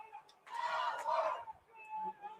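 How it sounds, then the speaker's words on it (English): A crowd murmurs and cheers at a state baseball championship game, a brief burst of voices swelling and fading at moderate distance, with scattered calls and quieter gaps around it. "Listen to this place. Great crowd on hand."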